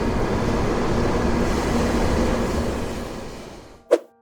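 Passenger train departing a station: a steady broadband rumble of the moving train that fades slightly over several seconds, ending with a single sharp, brief clank.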